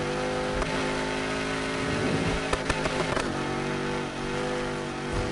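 Car engine revving in a video game, a steady loud drone whose pitch shifts up and down, with a few brief sharper clatters near the middle and nobody talking.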